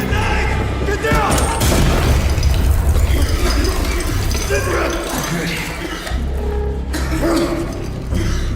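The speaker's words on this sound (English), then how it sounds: "Grenade! Get down!" Grenade blast in the shooter game Arena Breakout, a heavy booming rumble swelling for several seconds amid clinking debris and battle noise, with shouting voices mixed in.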